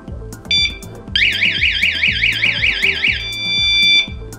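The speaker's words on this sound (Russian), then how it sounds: "Сигнализация уже активная. Представьте, открываем дверь." A cheap home security alarm, triggered by a door opening: a few short electronic beeps, then a loud piercing alarm warbles steadily for about two seconds before cutting off, followed by a lingering steady tone.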